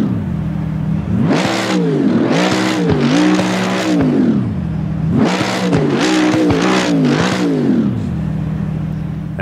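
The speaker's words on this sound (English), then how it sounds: "The car only looks slightly more aggressive and thankfully retains its roar." Mercedes-AMG GT3 Evo race car in Assetto Corsa Competizione, its engine loudly roaring through repeated rev surges and gear shifts, two clusters of rising, falling pitch sweeps close up with no talk.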